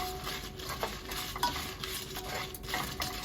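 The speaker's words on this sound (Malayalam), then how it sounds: "ഇനി നമുക്ക് മല്ലിയും മുളകും വറുത്തെടുക്കാം" Coriander and chillies roast in a little oil over a low flame, a soft steady sizzle with a spoon scraping and stirring the pan.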